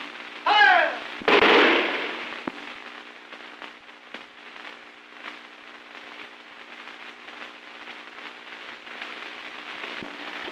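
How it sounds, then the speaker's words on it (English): Rifle volley from a firing squad in a 1930 thriller film: one loud, sharp crack of massed shots right after a shouted command, then a steady hiss from the old soundtrack. "The firing squad."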